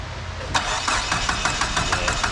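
Dodge SRT-4 engine cranking over with a steady, rhythmic chug of repeated starter pulses, close and fairly loud, running for a couple of seconds without catching.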